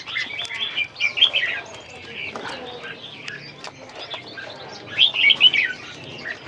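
Many caged songbirds, including budgerigars and doves, chirp and tweet in a bird shop at an antiques market, a busy mix of close calls with louder bursts, while people talk underneath.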